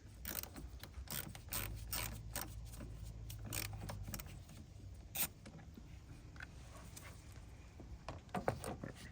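Ratchet loosening the positive battery terminal nut on a 2014-2020 Acura MDX: a run of quiet, rapid clicking pawl bursts, close but faint, with no talk.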